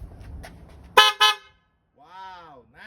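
A 2008 Toyota Camry's newly fitted car horn gives two short, loud toots close by, followed by a voice speaking after a brief silence.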